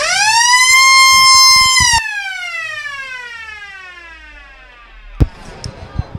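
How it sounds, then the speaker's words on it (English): A loud, sustained siren blares for half-time at a rugby league match at Frank McGovern Park, Grafton Ghosts versus Sawtell Panthers, holding steady then winding down in pitch as it fades, followed by a sharp thump and crowd noise. "There's a siren sounds. It's half-time now at Frank McGovern Park."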